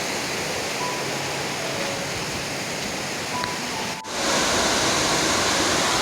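A waterfall on a forest hike in Tasikmalaya makes a steady, broad rushing roar, with a brief dip near the end before it resumes, no voices.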